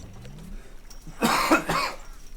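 A man playing a zombie survival strategy game coughs, giving a couple of short, close coughs over faint game background sound.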